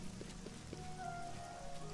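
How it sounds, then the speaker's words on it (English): Steady rain falls at night in the video game Oblivion, a continuous soft hiss of drops on surfaces with faint game ambience and a low tone beneath. "It's middle of the night and it's raining."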